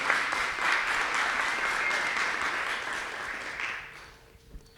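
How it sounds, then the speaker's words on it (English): Audience applause at a university symposium, a dense, steady patter of many hands clapping for about four seconds before thinning out and fading, moderately near. "go ahead and clap"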